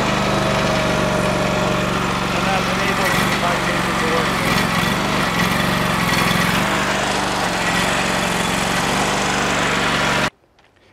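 Small gasoline engine on a BTE 3000 tie changer running steadily after a choke start, a continuous loud drone that cuts off near the end.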